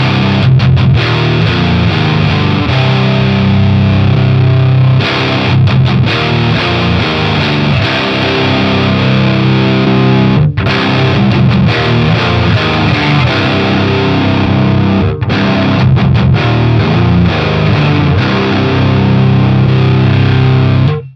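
Heavily distorted electric guitar plays chunky riffs and sustained chords through an overdriven tube amp with 6L6 power tubes, loud and continuous with brief rhythmic stops.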